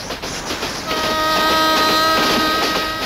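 A train rolls past on rails in a Tamil film scene, a loud, close rumbling roar with steady metallic ringing tones and faint clacking that builds and holds at full strength.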